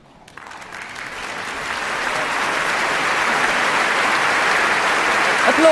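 A BBC Proms concert audience applauds the orchestra's leader in a large hall, the dense clapping swelling steadily and staying loud and sustained throughout.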